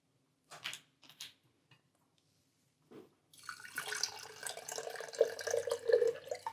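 Tap water runs into a container while seeds are rinsed, starting after a few scattered knocks and clatters and continuing as a steady splashing stream, close and moderately loud, with no talk.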